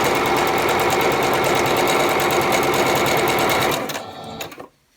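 A sewing machine stitches a quarter-inch seam on half-square-triangle quilt pieces, running as a fast, even, close-up hum of rapid needle strokes for about four seconds before it slows and stops.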